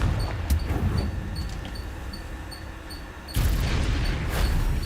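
A Confringo fire spell is cast in the Hogwarts Legacy video game, burning away vines: a loud booming blast bursts out near the end after a rumbling game soundscape with scattered thuds.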